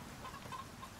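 Chickens clucking softly in the survival game Icarus, a few faint short clucks over a low steady background hum.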